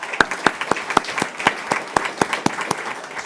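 Applause at a Polk County School District school board meeting: a small group clapping in a steady, evenly spaced rhythm of sharp claps, fairly close, with no talk over it.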